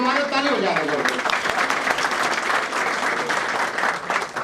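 Steady, dense applause from a crowd at a retirement ceremony honouring Hawa Singh, many hands clapping continuously at a fairly close, even level with faint voices beneath.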